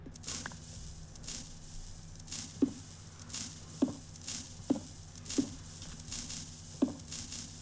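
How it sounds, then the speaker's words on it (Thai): Steady rain hisses and patters in Minecraft on an Acid Island map, a continuous wash of noise broken by several soft, regularly spaced thumps and clicks of in-game actions, with no voice present. "คือฝนตกประมาณอาทิตย์หนึ่งแล้วฝนก็ยังไม่หยุดตกเป็นฝนตกที่ยาวนานมาก"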